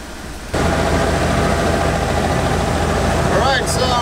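The engine of a Jurassic Park RV under restoration, still spitting rusty water, kicks on abruptly and runs steadily, a loud, even rumbling drone that holds throughout, with brief chirpy noises near the end.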